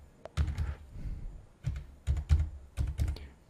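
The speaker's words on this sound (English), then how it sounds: "Now type your computer password." Someone types a password on a computer keyboard in a Linux terminal, producing a few quick bursts of close, crisp key taps separated by short pauses, with no talking.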